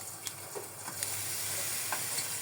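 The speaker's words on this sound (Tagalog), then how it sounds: "lagyan ko rin siya ng oil" Oil hits a hot frying pan while fried fish paksiw is cooked, giving a steady, fairly quiet sizzle with light crackling pops and no talking.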